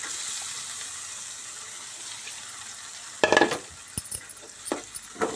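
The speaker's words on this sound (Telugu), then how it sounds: "అల్లం పసుపు వేగింది పప్పు వేసుకుందాం" Moong dal tipped into a hot pan of fried ginger and turmeric, starting with a steady soft sizzle, then a sudden louder burst of frying and a few sharp stirring scrapes close by.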